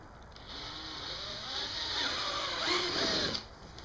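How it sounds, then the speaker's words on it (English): A drill bit bores holes in a car's rear underbody for fitting an HFP rear underbody spoiler, a continuous whining grind whose pitch sways up and down as the bit cuts, fairly close and steady. "sitting here drilling this stuff out"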